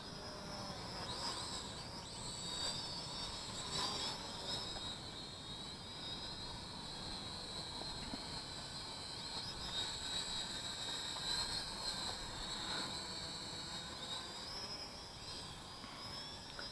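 A Skytech TK110HW small RC helicopter flies nearby, its rotor producing a steady high-pitched whine with slight pitch wobbles as it maneuvers, continuous and moderately quiet with no talking.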